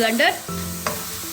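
Steady sizzling and frying as tomato puree goes into a hot pan, with a brief stirring scrape at the start and a soft clink partway through.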